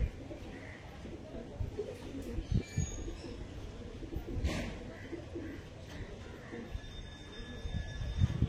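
Kalanka pigeons coo in low, soft, repeated phrases close by, with a few faint chirps, while someone talks over them in a small indoor bird-keeping setting.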